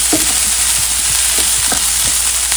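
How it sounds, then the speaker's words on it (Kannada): Sausages sautéing in a hot pan on a home stove, with loud continuous sizzling and occasional stirring clicks close up, no talking. "Just sauteing the sausages."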